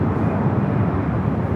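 An airliner landing on runway 24 right at Los Angeles International Airport, a steady broad low jet roar, loud and even throughout with no clear voices.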